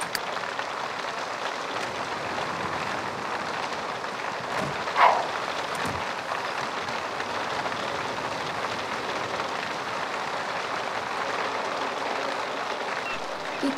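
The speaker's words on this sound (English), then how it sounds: "It's the next day, still raining, which is awesome for his first day at work, right?" Steady rain falls in The Sims 3 Island Paradise, a constant even hiss from start to finish with a couple of faint knocks partway through.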